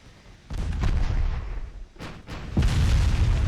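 Heavy naval gunfire in Ultimate Admiral Dreadnoughts, a few close, booming salvos with rumbling tails, the biggest and loudest round landing near the end.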